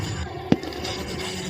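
A demolition party's blast cracks out as one short, sharp report, loud and fairly near, then fades quickly into a steady background hum.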